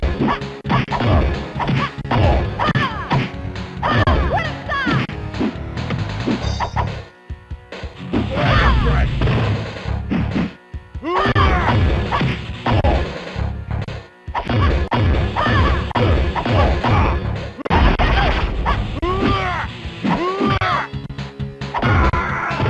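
The N64 fighting game Mace: The Dark Age plays a dense, loud stream of whacks, smashes, thuds and swooshes, with grunts and screams from fighters mixed over game music, broken by a few short pauses.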